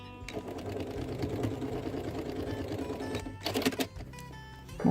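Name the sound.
sewing machine topstitching a seam along the edge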